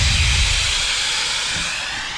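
Air rushes out of an inflatable Aquatec Ottawa kayak as it is deflated with an electric pump, a steady loud hiss that starts with a low rumble and carries on without a break.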